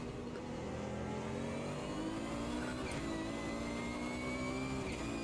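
GT1 race car engine in the sim racing game Automobilista 2, a steady high-revving drone held continuously with rising harmonic whine, loud and close with no talk.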